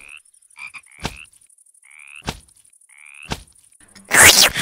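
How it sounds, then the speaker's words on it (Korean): Frog croaking in a Minecraft-style Peppa Pig animation, with several loud, clear croaks spaced about a second apart and sharp thwacks between them, ending in a burst of noisy clatter. "야! 개구리가 사네?"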